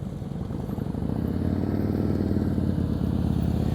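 A motorcycle's engine chugging steadily at low revs during slow-speed riding practice, a close, loud, pulsing putter that holds even for several seconds, with no voices.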